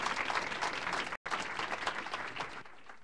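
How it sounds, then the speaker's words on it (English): Audience applause in a college open forum welcoming presidential candidate Dr. Jimeno, a steady mid-sized round of clapping with a brief cut partway and fading near the end. "Can we please have a nice round of applause for her to welcome her this afternoon?"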